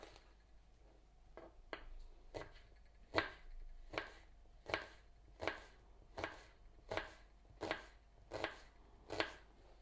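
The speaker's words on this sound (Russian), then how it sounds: "Репчатый лук нужно нарезать тонкими 1/4 кольцами." An onion is sliced with a knife into thin quarter rings on a board, a steady run of about a dozen evenly spaced chops, close and clear with no talking.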